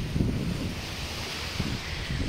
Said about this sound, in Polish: Dzisiaj też jest spory wiatr.